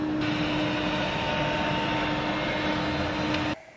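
A window-cleaning robot, the first of its kind in Korea and fitted with a water tank and detergent, wipes a window with a steady close motor whine and airy hum that stops abruptly near the end.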